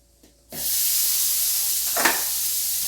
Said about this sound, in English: So the pan is nice and hot. It has a little of the avocado oil in it. I'm going to throw the shrimp in.